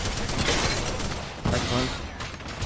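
Bursts of suppressing gunfire in the battle royale game Apex Legends, loud and dense, with a heavy volley at the start and another surge midway, mixed with game effects.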